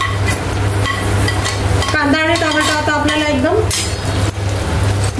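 Tomatoes going into a hot pan for pav bhaji, with a spoon stirring and scraping against the metal, light clinks and a low sizzle, plus a brief tonal voice-like sound midway over steady background hum.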